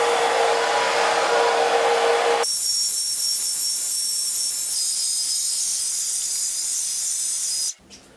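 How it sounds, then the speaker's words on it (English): A hair dryer blows steadily while drying curly hair, a loud continuous whoosh that shifts pitch once partway through as the setting changes, then cuts off near the end. "you end with like drying the roots"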